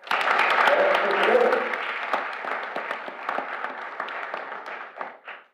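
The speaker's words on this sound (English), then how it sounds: "So give them a big round of applause." Applause from the audience at a regular board meeting starts as a strong wash of clapping, then thins to scattered claps and dies away over a few seconds.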